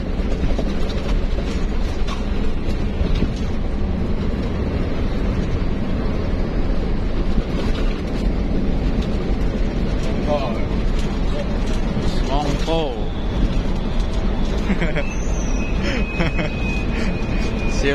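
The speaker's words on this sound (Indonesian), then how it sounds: "Motor itu keras suaranya." A loud, steady bus engine roar fills the space without letup, rumbling and rattling as the ALS bus moves, with faint voices underneath.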